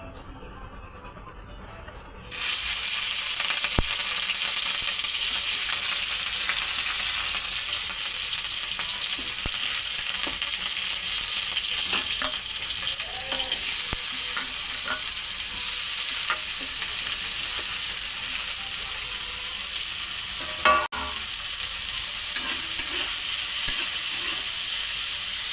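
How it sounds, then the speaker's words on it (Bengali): Chopped onion and green chilli frying in hot oil for chowmein, a loud continuous sizzle and hiss with occasional stirring scrapes, a faint insect-like chirp mixed in, no one talking. "তেলটা গরম হয়ে গেলে ওর মধ্যে কুচনো যে পেঁয়াজ আর কাঁচা লঙ্কা ছিল ওটা"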